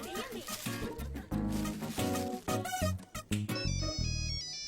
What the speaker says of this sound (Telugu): ఫోన్ మీకే వచ్చింది.